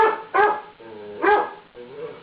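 Two loud, sharp dog barks about a second apart, close by, followed by a softer whine-like vocalization.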